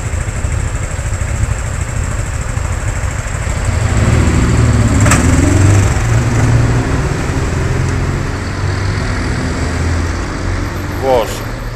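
Street traffic rumbles loudly and steadily at an Irish intersection with traffic lights, engines idling and vehicles passing close by, with a voice talking over it.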